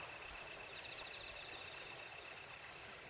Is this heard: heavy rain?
no